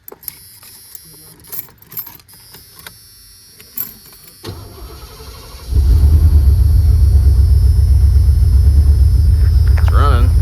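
A 1988 Ford van with fire damage and a stopped-up muffler cranks and catches, then settles into a loud, steady, close rumbling idle that sounds like it is missing, after a stretch of clanking and rattling.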